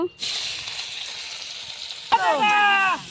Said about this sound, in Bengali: মাছগুলোকে ভেজে নেব